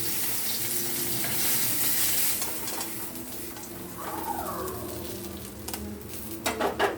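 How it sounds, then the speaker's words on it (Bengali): Bata fish fry in hot oil in a pan with a steady, close sizzle and crackle, while a pigeon coos faintly in the background. "এক এক করে সব মাছগুলো এইভাবে ভেজে নেব"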